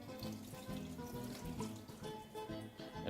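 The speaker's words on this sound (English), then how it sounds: "Take it through the second rinse and once more pour your water out." Rinse water poured out of a bowl of rice while washing it for mutton biryani, a continuous splashing, trickling pour heard up close and alone.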